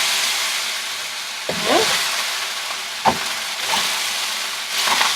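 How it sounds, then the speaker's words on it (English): Shrimp fried rice sizzles in a hot pan as soy sauce is poured in, giving a steady hiss broken by a few brief stirring scrapes and crackles, close and alone without voices. "I'm going to add some soy sauce in here."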